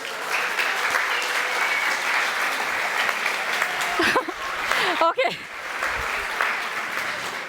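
Audience applause fills a conference hall during a web debugging talk, sustained and dense throughout, with a brief word spoken over it near the end.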